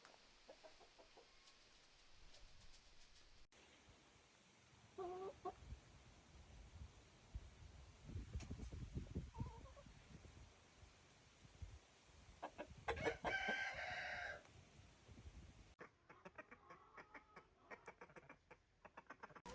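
Hens cluck and murmur in a small Ontario farm coop during a heat wave, with scattered faint calls and bursts of fowl noise, one louder squawk near the middle, all quiet and close-ish.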